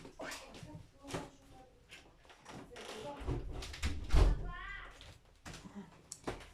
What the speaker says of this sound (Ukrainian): двері закрив